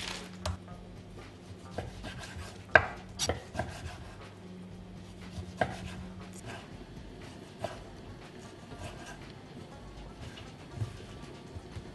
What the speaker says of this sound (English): The potato is boiling and the bacon is chopped.